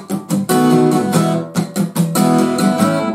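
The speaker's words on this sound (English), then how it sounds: "that's followed by an acoustic guitar rhythm riff" Acoustic guitar strumming a 1950s rock 'n' roll rhythm riff from a song, loud and close, in short choppy bursts with brief gaps, played alone with no talking.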